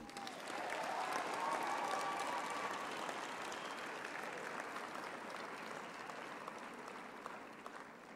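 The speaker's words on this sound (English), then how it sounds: "give a warm round of applause to the people who have supported you up to this point" Steady applause from a large audience at a university graduation ceremony fills the space, sustained and even, gradually tapering slightly toward the end.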